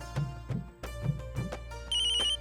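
A telephone rings while a call is being placed, giving repeated electronic ringtone bursts in a steady pattern, close and clear, with a higher beeping tone at the end.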